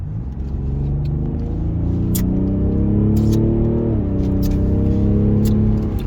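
A BMW 750d saloon cruises along the road, its diesel engine giving a steady, loud low rumble inside the cabin with a brief rise in pitch as it accelerates, no talking.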